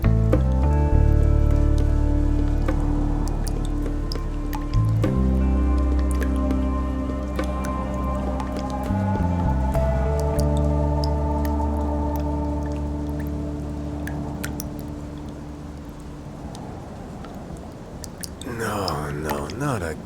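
Water dripping from a leak in a video game, heard as a run of soft, irregular drips over a low droning background, with a voice speaking near the end.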